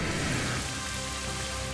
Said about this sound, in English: I'm just gonna Rain Dance here.